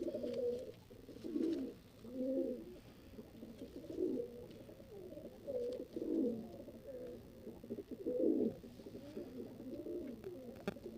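Newly acquired pigeons coo in repeated soft, rolling phrases at a fairly low level, nearby and unaccompanied by talk.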